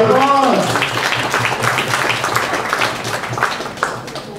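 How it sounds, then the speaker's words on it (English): An audience gives a round of applause, a dense wash of clapping that fades slightly over a few seconds while voices carry on over it. "Round of applause, guys."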